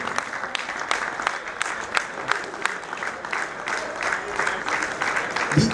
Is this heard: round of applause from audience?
yes